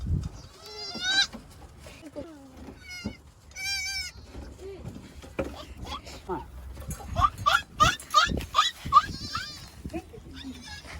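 A goat bleats repeatedly in wavering, quavering calls at close range, the bleats spread across the stretch with people talking in between and over them.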